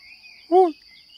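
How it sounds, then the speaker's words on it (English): One short, tonal hoot from the steam escape release valves of a desert pipe organ rises over a steady high hiss at night, clear and fairly near, then drops away. "these sounds come from the steam escape release valves"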